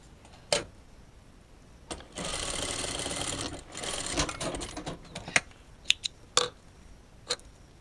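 Short bursts of a sewing machine stitching fabric, including one sustained whirring run, with sharp clicks and handling knocks between them, fairly quiet and close.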